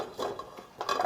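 Meat goes into a cooking pot while preparing low-sodium Korean jangjorim (soy-braised beef side dish), giving a few short clattering knocks of utensils and pot, close and moderately loud with no talking.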